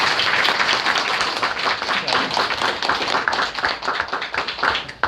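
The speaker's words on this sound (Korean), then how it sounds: "오늘 강의해주신 박성진 소장님한테 다시 한번 박수 부탁드립니다" An audience at a lecture on the Jeju April 3 uprising claps together in sustained, even applause. It is loud and fairly close, with individual hand claps audible in the dense mass, and it tapers slightly near the end.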